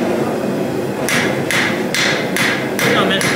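A hammer strikes hot steel while a horseshoe knife is forged, five sharp, evenly spaced ringing blows arriving about every half second after a quiet start, loud and close over steady background noise.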